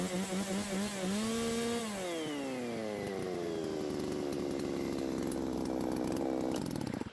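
A rebuilt G660 chainsaw engine runs loud and close, revving up then easing down into a sustained, rising whine that holds steady before stopping at the end.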